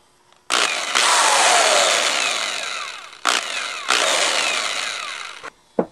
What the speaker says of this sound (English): drill those rivets out and take it apart and see what's going on inside